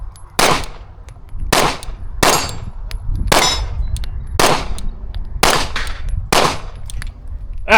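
Kimber 2K11 pistol fired at a range, about eight sharp shots with ringing metallic clangs, spaced roughly a second apart, loud and close with short echoing tails.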